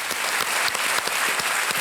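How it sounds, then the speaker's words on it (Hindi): A television quiz show studio audience in India applauding, with dense, steady clapping from many hands filling the whole stretch at a loud, even level. "एक बार फिर डॉक्टर साहब के लिए तालियां"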